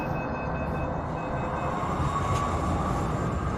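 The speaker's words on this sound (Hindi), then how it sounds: "इस बीच मेट्रो चल दी" A metro train pulls away from the platform with a low, steady rumble of wheels and motors, heard close from inside the carriage with a faint high whine above it.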